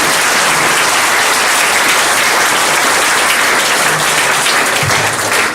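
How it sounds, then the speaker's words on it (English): A crowd applauds a speaker after a tech talk on data-informed design, a loud, sustained wash of clapping that holds evenly from start to finish. "A big round of applause for Pantelis."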